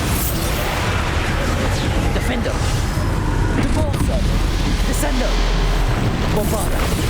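Descendo spell impact in Hogwarts Legacy on Nintendo Switch: a loud, sustained rumbling crash with booming bursts and debris-like clatter that fills the whole stretch with dense, unbroken noise.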